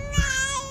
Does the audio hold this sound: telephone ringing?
no